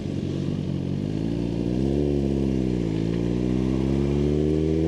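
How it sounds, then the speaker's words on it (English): A Suzuki GSXR1000R motorcycle ridden at around 165 mph gives a loud, steady engine drone mixed with wind rush, the pitch dipping and rising slightly as the throttle shifts. "this bike is a beautiful, refined motorcycle"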